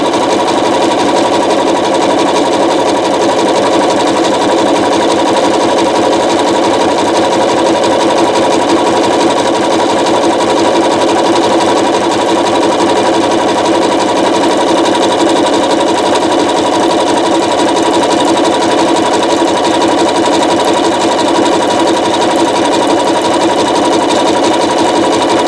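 A sewing machine runs continuously and loudly, stitching coiled rope into a rope bowl with a steady, even mechanical whir that stays close and uninterrupted throughout.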